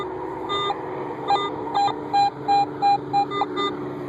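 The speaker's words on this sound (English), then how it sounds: "Right where it beeps." A Garrett AT Pro metal detector with a DD coil gives a quick series of short, even electronic beeps while pinpointing a target, about eight pulses in a row over low background hum.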